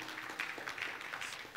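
A church congregation clapping hands in praise, with a soft, fairly distant patter of many hands that is steady and a little echoey, and that lasts only a moment.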